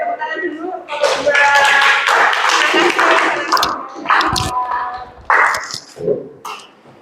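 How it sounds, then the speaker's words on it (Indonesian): Group of students in a classroom applauding together, dense clapping for several seconds that fades and picks up again in scattered bursts, with voices mixed in. "berikan tepuk tangan dulu kelompok"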